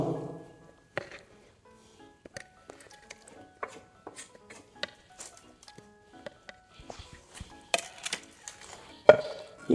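Tomato is pounded into a smooth paste for a tamarind fish curry, heard up close as irregular dull thuds and sharp taps, scattered and sometimes clustered, with quiet gaps between them and no voices.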